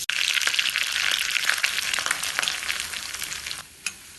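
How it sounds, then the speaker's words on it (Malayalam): Mustard seeds, dried chillies, curry leaves and small pieces of coconut fry in hot coconut oil in a bell-metal pan, a close, steady sizzle with crackling pops that dies away near the end. "ഒരു വാലുരുളി ചൂടാക്കി കുറച്ച് വെളിച്ചെണ്ണ ഒഴിച്ച് കടുവും പറങ്കിയും കരിയാമ്പിലിയും കുറച്ച് തേങ്ങ ചെറിയത് തൊട്ട്"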